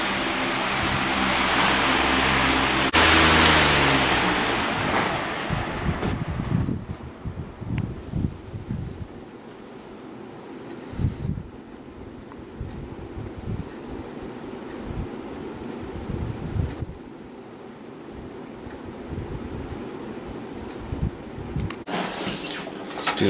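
A Lakewood 18-inch high velocity fan blows a strong, steady rush of air, loud and close at first, then a lower airy whoosh continues with intermittent rumbling buffets.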